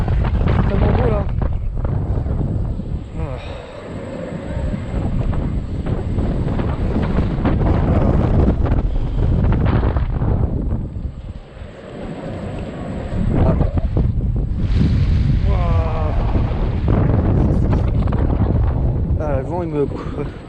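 Strong wind buffets the microphone outdoors in loud, continuous roaring gusts that swell and dip, with people talking throughout.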